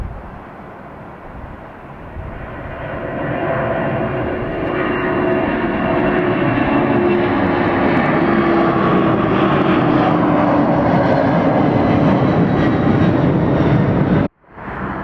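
A Boeing 767 airliner landing at Atlanta Hartsfield-Jackson airport, its engine roar swelling from a moderate level to a loud, sustained rush before cutting off abruptly near the end.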